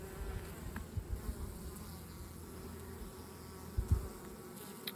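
Carniolan honey bees buzz around an open hive, a soft, steady drone with a few louder passes as individual bees fly close.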